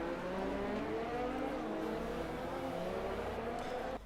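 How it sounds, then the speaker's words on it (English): A race car is heard in a simulated Hanoi-circuit race, its engine note dropping in a sustained, moderately loud drone as it brakes into the chicane. "Heavy braking in the chicane."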